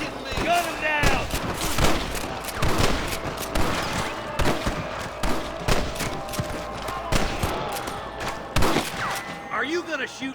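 Gunfire erupts at rustlers in Red Dead Redemption, sharp irregular shots cracking in quick clusters at close range, with people's shouts and voices in the gaps between bursts.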